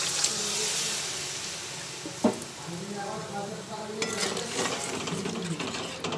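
Water splashed into a pan where potatoes and pointed gourd are frying in oil, a continuous hiss and sizzle with scraping and clinking of a spoon and a brief louder burst of sizzling partway through.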